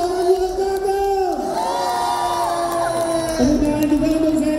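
A crowd at a live concert cheers and shouts loudly, with sustained whoops and voices rising together; clapping is not distinct beneath the cheering.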